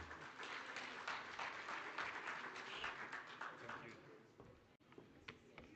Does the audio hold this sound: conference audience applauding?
yes